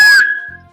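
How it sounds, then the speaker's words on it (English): A single sharp whistle blast, loud and close, fading quickly after a fraction of a second. "W for whistle"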